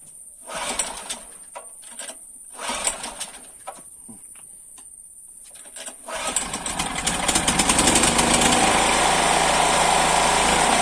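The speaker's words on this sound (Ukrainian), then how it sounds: "Він випалить, випалює бензин і починає неустойчиво працювати." A Chinese 2.5/2.8 kW generator engine running on petrol, loud and uneven, sputtering in bursts with gaps at first before settling into a steadier, dense roar that keeps rising.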